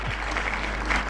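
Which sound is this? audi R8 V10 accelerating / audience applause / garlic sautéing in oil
audience applause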